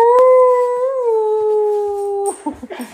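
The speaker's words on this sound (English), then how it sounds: "I was trying to teach my stepsister's dog how to howl." A dog holds a long, steady howl close up for over two seconds, its pitch rising slightly and then sliding down. Noisy laughter and scraps of voices follow once it stops.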